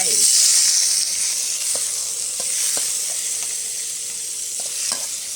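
Shrimp sizzle loudly in a frying pan for a fingerroot stir-fry, a steady bright hiss with occasional scraping taps of a utensil stirring.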